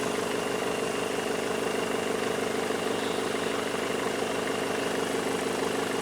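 A Citroën car engine idles steadily after an engine conversion, having been left running for a long time, giving a constant, even hum throughout with no other sounds.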